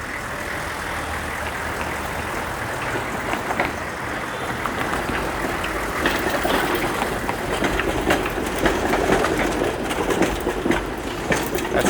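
Streetcar on Toronto's 501 Queen Street route rolls past in a steady, loud rumble with metallic wheel clatter, building slightly as it nears and sustained throughout.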